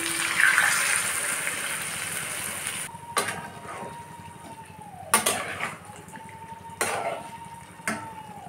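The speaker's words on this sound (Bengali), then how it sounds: "বাটিটাকে ধুয়ে সামান্য একটু জল দিয়ে দেবো।" Water pours into a cooking pot of simmering jackfruit curry in a hissing gush, followed by several sharp clinks and knocks of a metal bowl against the pot.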